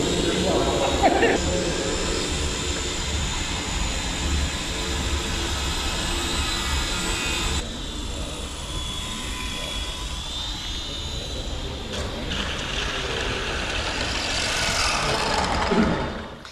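An electric motor whines steadily as a small Moth biplane RC model flies around indoors at about half throttle, the pitch rising and falling as it passes; a voice talks over it.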